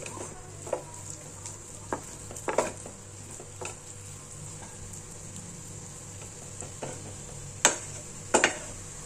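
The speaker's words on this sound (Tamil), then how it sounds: "நல்லா வேகட்டும், அப்படியே வெந்த உடனே பார்க்கலாம், உதிரி உதிரியாக வரட்டும்" Cluster bean usili fries softly in a pan, with a faint sizzle under scattered metallic scrapes and taps of a spoon stirring against the pan.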